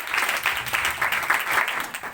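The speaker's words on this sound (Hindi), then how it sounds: "बाजी के लिए जोरदार तालियां बजाएं।" A church congregation applauding, dense continuous clapping from many hands filling the room, steady and fairly loud throughout.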